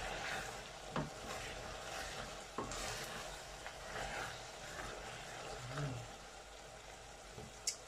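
Onion sambal fries in a pan with a steady, soft sizzle, broken by occasional stirring scrapes and small clinks of a utensil, heard close but fairly quiet.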